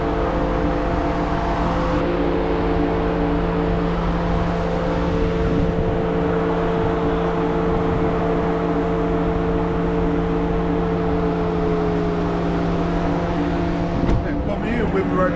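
A Dodge Hornet's engine drones steadily and loudly from inside the car, a constant hum held throughout with a brief rougher burst near the end.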